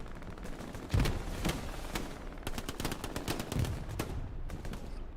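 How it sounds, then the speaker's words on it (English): Distant gunfire in the WWII shooter Hell Let Loose, a scattered series of sharp rifle and machine-gun cracks at irregular intervals, fairly faint and far off with a steady background rumble, no voices. "Long distance fire from Hobo"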